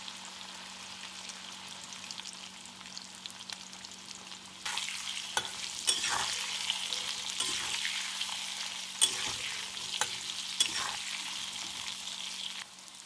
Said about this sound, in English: And finally, some fried raw bananas with little turmeric powder and salt.